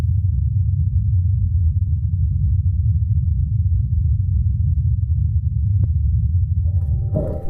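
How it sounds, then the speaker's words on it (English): Ingenuity helicopter flying on Mars: a steady, low, droning hum from the spinning rotors holds at a constant level throughout, with a faint higher tone creeping in near the end. "And this is a recording of the Ingenuity helicopter in flight."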